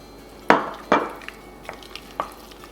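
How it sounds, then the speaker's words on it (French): Butter melting into hot cream with lemon zest as it is stirred for a lemon meringue tart, with a few sharp spoon scrapes and taps against the pot followed by softer, lighter clinks and faint sizzling. "Donc on mélange"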